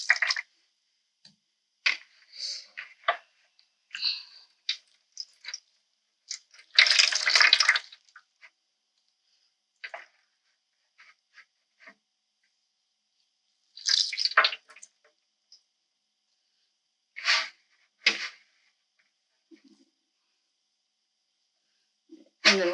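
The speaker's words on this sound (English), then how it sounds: "now I am going to remove the newspaper from the water and squeeze out some of the liquid" Soaked newspaper squeezed by hand so water drips and splashes into a bowl, with intermittent close, wet squishing and trickling bursts separated by silence.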